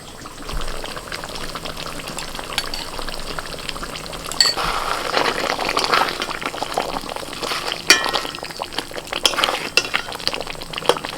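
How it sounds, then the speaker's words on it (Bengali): Chicken chap with a special spice masala being stirred on low heat, a steady soft sizzle with scraping spoon strokes and occasional louder clinks against the pan, close and continuous. "এরকম হালকা হাটে একটু নাড়াচাড়া করে দিতে হবে"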